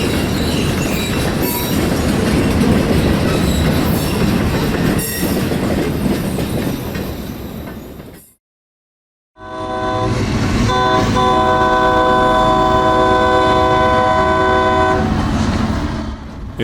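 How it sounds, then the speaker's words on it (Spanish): Coahuila Durango freight locomotive hauling 12 empty cars, a loud steady rumble with rail clatter and wheel squeal, a brief drop to silence midway, then droning horn-like tones over continued rolling noise. "Son 12 carros vacíos, 1000 toneladas que son pan comido para una sola locomotora"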